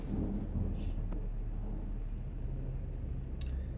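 A thunderstorm rolls through the horror game Vacuulus: a low, continuous rumble of thunder at a moderate distance, with brief faint crackles and a voice speaking briefly over it.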